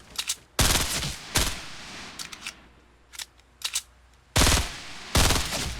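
Sniper rifle shots in the video game Fortnite: several sharp, loud cracks spaced across the moment, with a few fainter distant pops between them and no talking.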